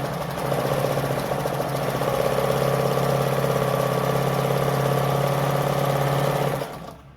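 A Jones model 556 sewing machine running steadily through a zigzag stitch at short stitch length, with a continuous mechanical whir and fine rapid chatter, loud and close, stopping abruptly at the end.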